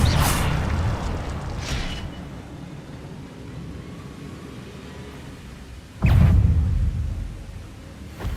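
Incendio fire spell cast in the Hogwarts Legacy video game: a booming whoosh bursts loud at the start, fades into a low rumbling bed, then a second heavy blast erupts near the end.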